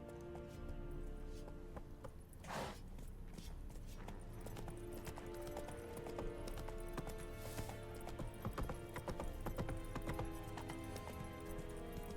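Horse hooves clip-clop steadily while riding in the video game Witcher 3, a continuous trotting rhythm under game music and ambience, with a brief voice audible.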